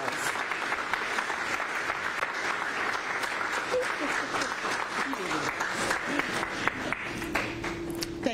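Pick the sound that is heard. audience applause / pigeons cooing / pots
audience applause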